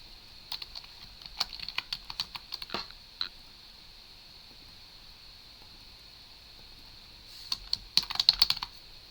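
Two bursts of rapid keystrokes on a computer keyboard as a rule name is typed into CRM software, with a quiet pause between the bursts and close, soft clicking.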